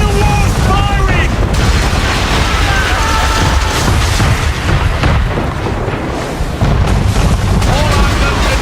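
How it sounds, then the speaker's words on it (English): Man of War warship firing cannons at the player's ship in Assassin's Creed 3, heavy booming blasts and crashing impacts over a dense din of battle, with shouting voices in the mix. "Man of War's firing!"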